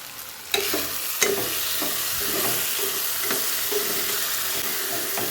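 Vegetable pulao masala with garlic paste fries and is stirred in a pan, a steady close sizzle broken by sharp scraping knocks of the spatula.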